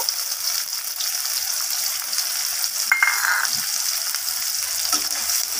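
Chopped onions frying in mustard oil in a wok sizzle steadily at close range, with gentle stirring scrapes and a short metallic clink midway, no speech.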